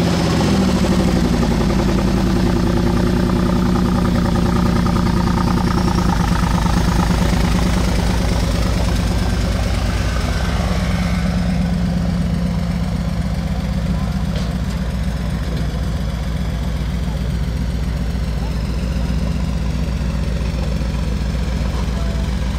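A Mercedes G63 AMG idles steadily after a cold start in Paris, a loud, continuous low engine rumble that drops slightly in pitch partway through and holds a smooth drone, with some background voices.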